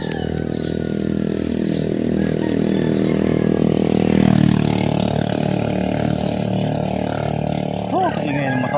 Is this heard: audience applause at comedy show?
no